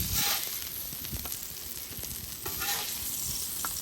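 Clover Valley frozen burger patties fry in a pan with a steady, close sizzle and crackle, moderately loud, occasionally shifting as they cook, with no talking.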